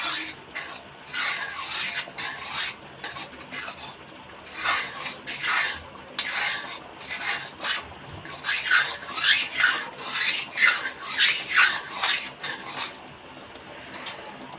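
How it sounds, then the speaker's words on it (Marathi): A spoon scrapes and stirs in a pan as cornflour is mixed into Manchurian gravy, steady rhythmic rasping strokes repeating close up with no talk. "आता हे आपण याच्यामध्ये ॲड करत जाणार आहोत आणि सारखं याला हलवत राहायचं ते याच्या गाठी बनतात"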